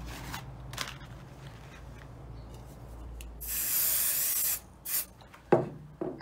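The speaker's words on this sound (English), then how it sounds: "use a little bit of spray on the other side" Short hissing bursts of spray aimed at the back of an embroidery hoop holding fabric, one longer spray in the middle and a couple of brief puffs after, close and fairly quiet among small handling rustles.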